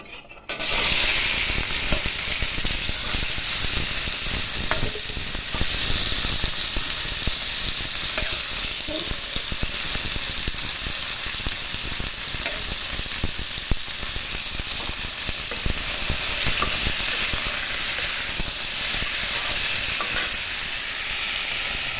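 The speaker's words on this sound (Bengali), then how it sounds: "এবার সেদ্ধ করা নুন হলুদ দিয়ে রাখা কাঁঠালটা এবার একটু হালকা ভেজে নেব কড়াইতে।" Boiled jackfruit, seasoned with salt and turmeric, sizzles steadily in oil in a kadai: a loud, continuous close-up hiss and crackle of frying that holds evenly throughout.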